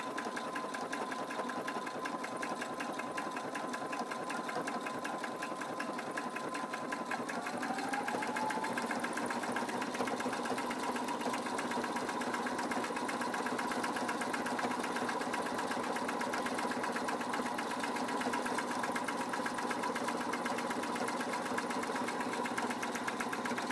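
A sewing machine stitches a fabric face mask in one long unbroken run, its rapid mechanical needle chatter close and steady with a faint motor whine underneath.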